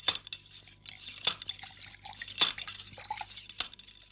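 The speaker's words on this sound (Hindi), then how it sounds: "और पानी के गिरने की आवाज" Water falls from a village hand pump in a sparse, quiet run of drips and splashes with light, clinking impacts.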